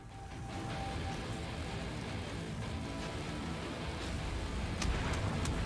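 Acid rain falls in the video game Valheim, a steady broadband hiss of downpour that swells in after a quiet start and continues evenly with a few brief crackles near the end.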